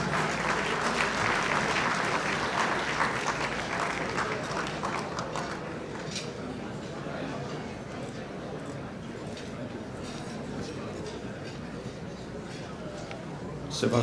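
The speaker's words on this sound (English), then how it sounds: "Please give him a round of applause." Sustained audience applause fills a ballroom at a Greek Independence Day gala, dense and steady throughout, thinning slightly toward the end with a burst at the close; crowd chatter mixes under the clapping.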